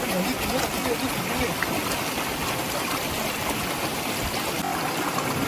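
Waterfall water at the Jayanti Mata temple flows in a continuous close rush and splash, while a person speaks over the steady stream.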